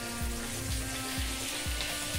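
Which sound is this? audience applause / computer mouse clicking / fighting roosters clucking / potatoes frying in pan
potatoes frying in pan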